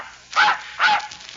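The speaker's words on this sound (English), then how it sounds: "You sure you don't want that blue-eyed dog?" A radio show sound effect of a dog barking: two loud barks or yelps about half a second apart, close and clear, with no talk over them.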